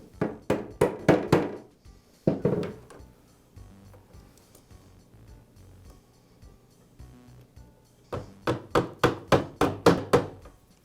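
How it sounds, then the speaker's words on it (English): A socket struck with a mallet taps a guard retainer onto its post on a DeWALT miter saw, giving quick runs of sharp metallic knocks, a burst of five at the start, a couple mid-clip and another run of seven near the end, close and crisp. "I'll tap the retainer into place using a socket and mallet"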